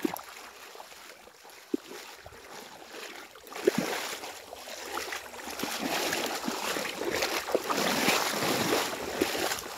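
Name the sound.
strong flowing water in the Sundarbans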